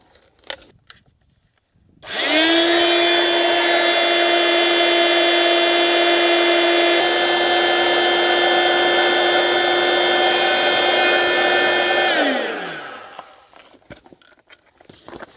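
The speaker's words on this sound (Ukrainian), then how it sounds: "підключаємо наш електричний насос" An electric air pump inflates a mattress while travelling and living in a car, starting abruptly into a loud, steady motorized whine that holds for about ten seconds before spinning down as it is switched off.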